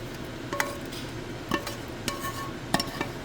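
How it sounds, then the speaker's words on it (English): Sautéed onions and celery go into a hot soup pot for kneophla soup: a few soft clinks and scrapes of a utensil against the pot, spaced out over a quiet, faintly sizzling background. "we're gonna add our sauteed veggies, the onions and celery"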